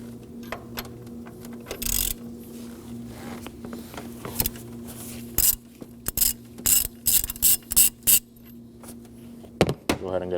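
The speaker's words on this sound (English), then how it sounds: "we're going to be using a 21mm socket to remove this bolt" A ratchet turns a 21mm socket to loosen a bolt on the high-pressure fuel pump of a 2017-2024 Nissan Armada 5.6L V8, giving short bursts of clicking close by over a steady low hum.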